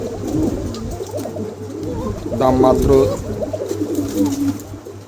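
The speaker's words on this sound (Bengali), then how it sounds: "চমৎকার এক জোড়া সাদা কিং আছে মার্শাল্লাহ দুটো কবুতরই একদম শো কোয়ালিটি" A pair of white King show pigeons coo in low, throaty rolls close by, partly under a voice talking over them.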